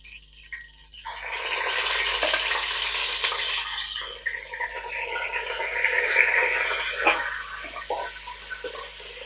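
Chicken is added to a pan of frying peppers for Tunisian red rechta, producing a loud, steady, hissing sizzle that swells and continues without pause.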